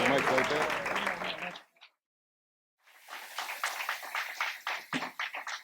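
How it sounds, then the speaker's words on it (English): Applause for honorees rises at a jazz event after a brief silence, a crowd clapping in uneven bursts, while a voice talks over the start before the pause. "How about a nice big round of applause for our honorees tonight?"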